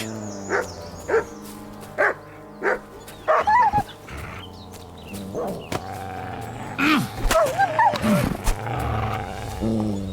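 Dogs bark in Kingdom Come: Deliverance II, a run of separate loud barks near the start, then growls, yelps and snarling as wild dogs fight through the rest.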